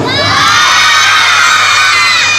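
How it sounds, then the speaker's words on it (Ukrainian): A large group of schoolchildren at a festive school event shouting and cheering at full volume, a dense, continuous roar of young voices throughout. "І треба кричати просто несамовито."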